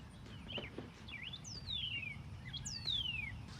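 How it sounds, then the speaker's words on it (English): A robin chirps outdoors, giving a few short tweets and then two longer downward-sliding whistled calls, faint against a low background rumble. "That bird is annoying."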